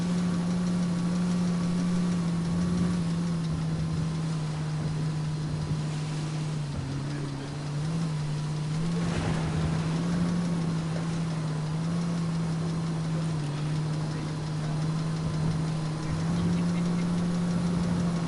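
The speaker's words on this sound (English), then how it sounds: "it might have blown the engine and the radiator." A damaged car engine in Ghost Recon Wildlands runs steadily with a low, rough droning hum and faint knocking, loud and continuous throughout with no pauses.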